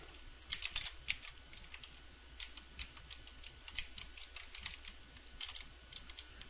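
Rapid, light keystrokes on a computer keyboard, close and quiet, in uneven bursts of clicking with brief pauses between words.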